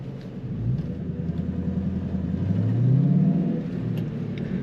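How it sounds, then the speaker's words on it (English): A 2001 Ford Mustang GT Bullitt V8 gives a low, throaty rumble while driving through a roundabout. The engine note swells as the car accelerates, heard steadily from inside the car with no talking. "Nice throaty rumble to this car,"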